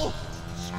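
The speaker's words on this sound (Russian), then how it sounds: "Опять корова" A cow moos in the Deadpool video game, one short, loud, steady low call that holds on without a break.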